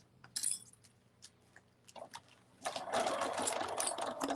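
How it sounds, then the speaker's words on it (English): After a few light clicks and handling noises, a sewing machine starts up and runs steadily, stitching a seam on a Minky fabric bunny. "we're just going to sew this seam"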